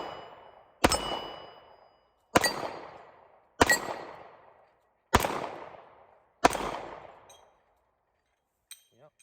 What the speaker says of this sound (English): But we'll just take a few shots with it, see how it shoots.